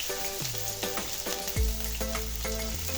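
Chopped onion dropped into plenty of hot oil, a bright crackling sizzle with a few stirring clatters and a low hum underneath, fairly quiet and close, no one speaking.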